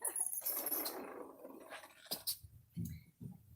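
Dogs outdoors give faint, scattered low growls and short whimpering noises in a quiet setting, with a brief sharper burst in the middle.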